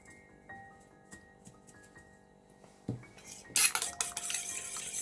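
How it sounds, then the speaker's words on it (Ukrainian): Eggs whisked with milk and salt in a small bowl, heard as quiet, irregular metal-on-bowl clinks and scrapes that grow louder and busier in the second half, with no talking. "в невеликій мисочці збиваємо яйця, додаємо молоко та сіль"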